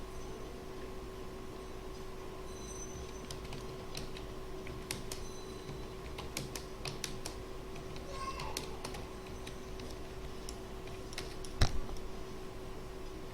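Someone types on a computer keyboard while entering text in a new file, producing scattered, irregular key clicks, mostly quiet with a few sharper taps, over a steady background hum.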